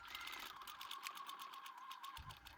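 A sewing machine stitches the fabric pieces of a cat plush toy, a fast even needle rattle running steadily for a couple of seconds, close up and without speech.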